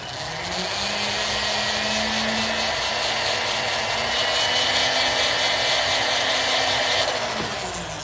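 A silicone rubber polisher on a rotary tool grinds excess metal away during stone setting, giving a loud, continuous high whine with a faint steady tone that runs almost unbroken for several seconds before cutting off.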